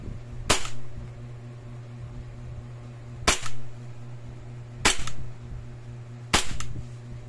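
Four sharp, evenly spaced pops ring out over a steady low hum as a WE Glock 35 airsoft pistol fires in semi-auto, each shot roughly one and a half seconds apart.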